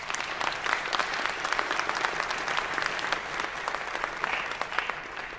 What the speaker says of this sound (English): So would you mind giving our percussionist another round of applause?